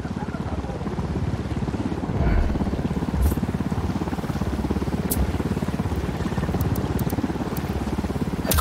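Helicopter in the video game Ghost Recon Wildlands, a steady, dense rotor chop that stays loud throughout, with a few sharp bursts cutting through and voices faintly mixed in.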